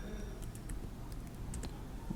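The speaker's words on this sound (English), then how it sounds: "You go to your terminal, then type pip" Keys clatter on a computer keyboard as a command is typed into a terminal: a quick, close run of light taps over faint room noise.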